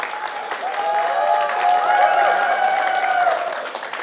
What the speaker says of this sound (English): Please, big round of applause for Fnatic.